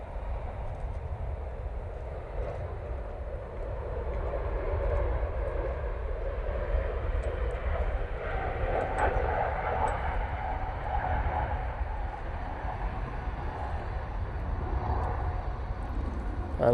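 An Aegean airliner at Manchester Airport makes a distant, steady roaring hum of engines that swells slightly midway and holds, faint under outdoor background noise.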